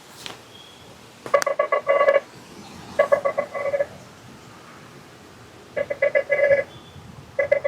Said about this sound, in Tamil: இப்போ ஃபுல் ட்ரிங்க் ஆகுது எடுக்க மாட்டேங்கிறாரு